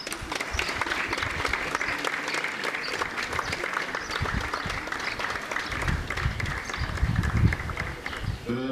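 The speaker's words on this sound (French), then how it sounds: "Et je vous demande de l'applaudir très très fort" Sustained audience applause at a live comedy show: a steady, dense wash of clapping that holds for several seconds and swells slightly near the end, with faint voices underneath.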